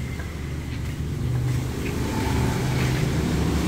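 A Honda Brio automatic fitted with an aftermarket full-system exhaust and muffler gives a loud, close, continuous deep rumble that swells slightly as it revs, with no talk over it.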